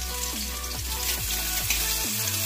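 Chopped onions frying in hot oil in a kadai wok for a Bengali egg and potato curry, giving a steady, close sizzle that runs the whole time with a low hum beneath it.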